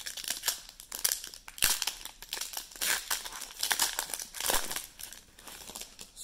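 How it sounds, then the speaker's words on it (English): Crinkly foil-wrapper tearing and crumpling as a Panini NFL Mosaic 2021 trading card pack is ripped open, a run of close, uneven rustling bursts with no talk. "So here are the 10 packs, and let's start ripping."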